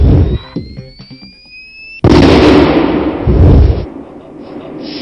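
A Bangalore Blade explosive charge detonating on a test range: a sudden very loud blast follows a rising whistle and short knocks, then a long roaring rumble that slowly fades.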